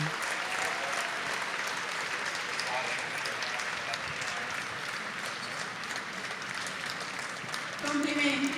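Crowd giving a standing ovation at the 1000 Miglia prize-giving ceremony, sustained dense clapping heard from a distance, steady throughout, with a voice over a loudspeaker speaking over it.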